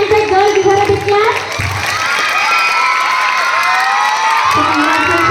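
At a school Teachers' Day celebration, an audience of children cheers and shouts loudly and continuously in shrill, overlapping voices, with only faint hints of clapping.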